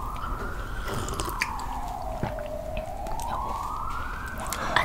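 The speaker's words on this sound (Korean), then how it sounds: "사이렌까지 울려줘" A siren wails outside at a distance, its pitch slowly rising and falling, faint beneath close crunchy chewing and mouth sounds.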